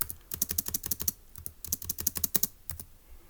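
Quick bursts of keystrokes clatter on a computer keyboard, close and clear, in uneven rapid clusters with brief gaps.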